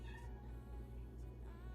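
A domestic cat meows in a newly moved-into mobile home, a few short close cries repeating over a soft steady background hum, no talk.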